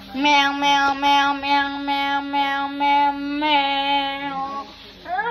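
A voice imitates a cat, drawing out a string of long, sustained meows at a steady pitch, one after another with brief breaks.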